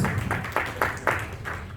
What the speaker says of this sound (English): Big round of applause for Dr. Amani and Iqbal for such wise words.